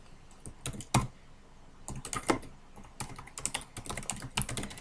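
Rapid typing on a computer keyboard, heard alone as uneven bursts of close, crisp key clicks with short pauses between runs.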